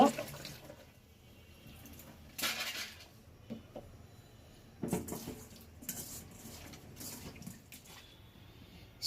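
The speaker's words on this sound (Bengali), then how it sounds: "মাছগুলো সুন্দর করে ধুয়ে নেব" Five kinds of small mixed fish are rinsed under water, with splashing bursts and trickling between quieter pauses, faint and close.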